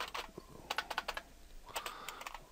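Quick bursts of key presses on a computer keyboard as a Linux package-install command is typed, close and fairly quiet, with short pauses between clusters of taps and no talk.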